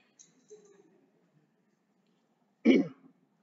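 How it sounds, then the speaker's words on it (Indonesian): A single short, close cough or throat clear bursts out after a moment of near silence, preceded by faint low murmuring. "Batuk."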